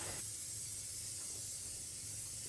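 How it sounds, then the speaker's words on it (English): A continuous hissing spray of rust converter oil from an aerosol can, close and steady throughout. "an oil spray that transforms and freezes rust"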